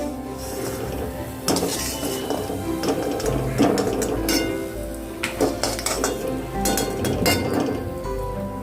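Roasted almonds are scooped out of a pan with a utensil, giving repeated close metallic scrapes, clinks and rattles of metal on metal in irregular bursts, fairly loud with no voices.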